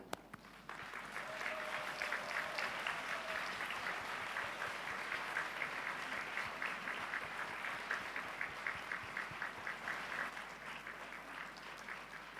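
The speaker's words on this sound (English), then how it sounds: "join me in giving them a thunderous applause" Graduates at a business school undergraduate ceremony stand and applaud their families and friends, a large hall filled with sustained, dense clapping that starts abruptly after a brief pause and holds steady before easing slightly.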